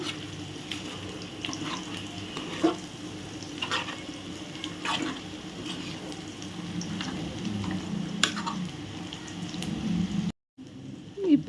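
Chicken leg pieces cooking in a gravy and being stirred in an open pot: continuous bubbling sizzle with occasional scrapes and knocks of the spoon, at a close, moderate level.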